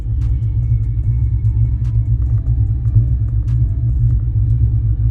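A Dodge Hellephant crate engine installed in a car runs at a steady idle, a loud, continuous low rumble with faint ticking above it and no voices.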